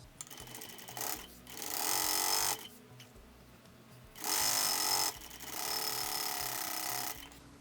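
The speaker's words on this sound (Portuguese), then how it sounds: "Vou fazer costuras aqui, prendendo as 3 peças e dos 2 lados." A sewing machine runs three separate stitching bursts, sewing seams that join the bottom and waistband pieces of a fabric bucket bag, each a bright close whir separated by pauses of quiet handling.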